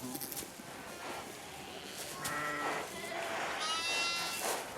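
Sheep bleating in a flock on a French farm, several overlapping calls near and far, ending with a loud, close, quavering bleat.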